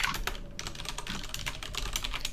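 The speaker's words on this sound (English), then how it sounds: "Hopefully this isn't too loud with the keyboard." Rapid clacking keystrokes on a mechanical keyboard, steady and close, with no talking.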